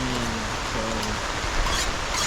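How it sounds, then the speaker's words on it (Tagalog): Heavy, unceasing rain falls at a seaside campsite in Mauban, Quezon, making a dense, steady hiss with low rumbling underneath and faint voices in the background. "So grabe, walang tigil ang ulan."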